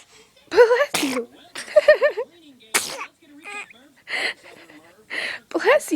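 A small child sneezes a few times in quick bursts, close to the microphone, with an adult talking between the sneezes.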